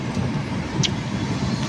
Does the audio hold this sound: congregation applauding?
no